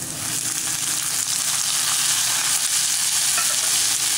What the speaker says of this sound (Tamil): இப்போ தக்காளி போட்டுக்கலாம்.